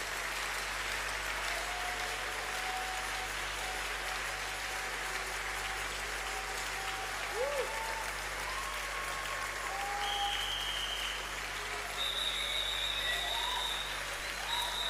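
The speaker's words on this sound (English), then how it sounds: "Let's give the Lord a good clap up from everybody." A church congregation clapping in praise during a sermon, steady massed applause with a low electrical hum beneath and faint tonal sounds drifting over it.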